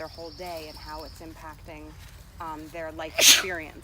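One sharp sneeze bursts out near the end, right after a stretch of someone talking quietly in a calm indoor conversation.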